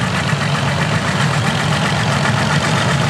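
A vintage tractor, a little Cockshutt 20, rolls along the front straight in a tractor parade at Wheels at Wanaka 2023. Its engine gives a loud, steady, close chugging drone that holds constant throughout, with no voices over it.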